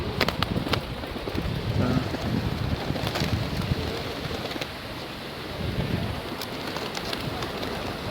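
Wild pigeons bathing outdoors coo softly, with scattered flutters and splashy rustles, under steady wind buffeting the microphone.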